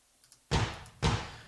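Two kick drum hits from a room mic, boomy and distant, each trailing off into a long roomy wash of reverb that fills the space between them.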